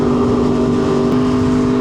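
A 2025 BMW S1000RR motorcycle engine holds a loud, steady rev through its exhaust, a close, sustained droning roar.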